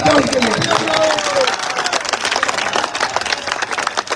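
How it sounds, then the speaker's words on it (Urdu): A crowd at a political rally in Lahore applauding, a loud wash of clapping and cheering that thins out toward the end, with a voice over it at the start. "تالیاں بجاؤ ان کے لیے"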